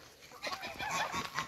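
Hens clucking close by near a chicken coop, a busy overlapping run of short clucks and murmurs from several birds with no speech.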